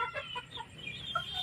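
Domestic desi chickens cluck softly and intermittently as they settle to roost at dusk on a poultry farm, close and calm with no talking.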